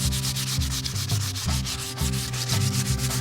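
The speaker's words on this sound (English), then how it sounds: "sand the entire bow, beginning with 100 grit sandpaper" Wooden primitive bow sanded by hand with 100 grit sandpaper, a loud, close, rhythmic rasping with regular back-and-forth strokes about twice per second, heard alone with no talking.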